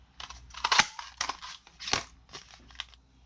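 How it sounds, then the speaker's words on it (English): Paper petals are cut or punched from scrap paper in a quick series of sharp crunching snips and clicks, about seven or eight irregular bursts, close and fairly loud with quiet gaps between. "So I'm going to cut out or punch out total of 6 petals."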